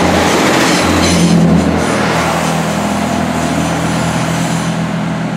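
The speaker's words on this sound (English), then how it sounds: "So going to leave Redbridge Railway Station on the 1527 South Western Railway service to one stop down the line in that way towards Southampton, Millbrook." A South Western Railway train pulls out of Redbridge station heading toward Southampton, a loud, steady rumble with low engine drone and rolling noise throughout, close by and without talk.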